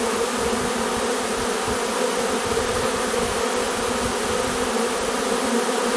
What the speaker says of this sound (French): Là, une grosse quantité d'abeilles.